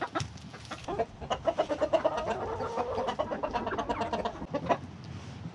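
Several chickens cluck and murmur close by, a busy overlapping chatter of short clucks that tapers off near the end.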